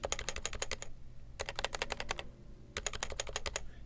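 Someone types on an HHKB keyboard fitted with typewriter-style keycaps: three quick bursts of crisp, close key clacks with short pauses between them, and no voices.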